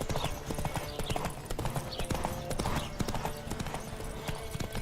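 Fast, rhythmic hoofbeats of a galloping horse in The Witcher 3, loud and continuous, with a busy synthetic game soundscape around them.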